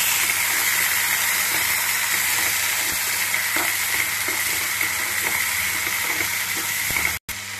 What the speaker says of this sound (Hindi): अब हम टमाटर डाल देंगे। ये देखिए, एक टमाटर हम काट लिए हैं